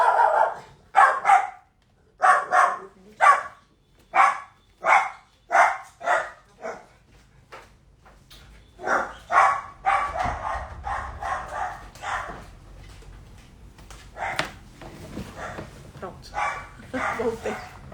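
A small dog barks in repeated sharp bursts, steady rhythmic yips near the microphone for several seconds, then scattered barks and whimpers continue more irregularly toward the end.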